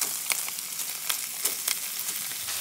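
Ground sirloin, about 90% lean, frying in a pan for Texas chili, giving a steady close crackling sizzle with scattered sharper pops, no voices.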